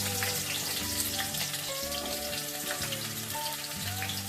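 Onions, cardamom, ginger, chilli, garlic and tomato frying in hot oil in a pan for matar paneer, a steady dense sizzle with crackling pops running unbroken and close throughout.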